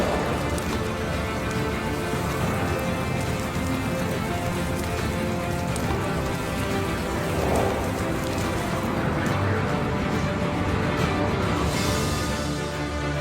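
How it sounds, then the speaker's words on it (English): A simulated sandstorm blows over a fish tank, a dense, continuous patter and hiss like heavy rain on a surface, steady and loud throughout with no voices. "I was about to simulate a sandstorm."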